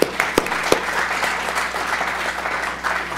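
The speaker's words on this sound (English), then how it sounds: "let's give our speakers one more round of applause for the wonderful talks today." An audience at a plant science symposium claps steadily in a sustained round of applause for the speakers, dense and continuous throughout.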